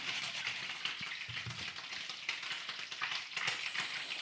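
A block of cold butter is grated close up for an apple crumble, a steady raspy scraping with faint rhythmic strokes and no voices.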